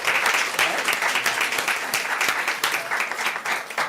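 A crowd at a county board meeting claps in sustained applause, a lively, even patter of many hands close by for a few seconds.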